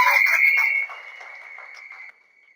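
A crowd at a TVK political rally lets out a shrill, sustained whistle blast, loud at first, then thinning out before cutting off.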